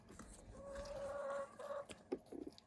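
Rescued chickens cluck and call softly close by while pecking at strawberries, with faint pecking taps and rustling underneath.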